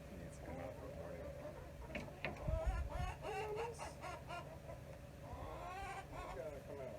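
A broody hen clucks and squawks in protest as she is lifted out of her nest in a backyard chicken flock, with a few sharp calls mid-clip and a person talking quietly nearby.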